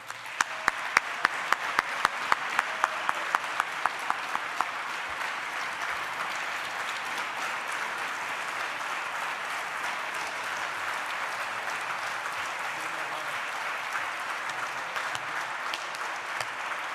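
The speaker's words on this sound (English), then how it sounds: "please join me in giving a big round of applause for the accomplishments and the man" Audience applause at the 2015 Organic Leadership Award ceremony for rising star Michael Berger. A few sharp, distinct claps at first quickly merge into a dense, sustained round of clapping from the crowd.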